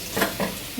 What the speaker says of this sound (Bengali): দেখেন আমার আলুটা কি সুন্দর লাল করে ভাজা হয়ে গেছে।